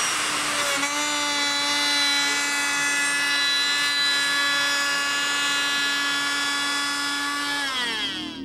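A Bosch 2-horsepower variable speed D-handle router switches on and spins up, giving a loud, steady high-pitched whine with a strong tonal hum that runs evenly alone for several seconds, then winds down at the end.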